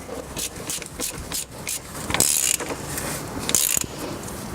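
Wrench tightening the oil filter housing on a 2003-2010 BMW 5 Series E60, a series of close ratcheting clicks and rubbing strokes in an irregular rhythm, with a couple of brighter scraping bursts.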